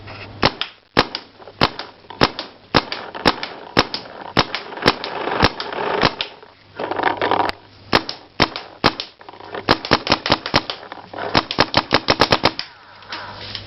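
Repeated sharp shots from a gun during a firing test, a rapid series of close, loud cracks in bursts with brief pauses between them, no talking.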